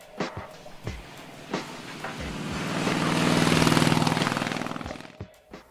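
Harley-Davidson Blackline motorcycle engine rising from an idle burble into a swelling, loud acceleration that peaks and then fades, with a few sharp knocks before and after.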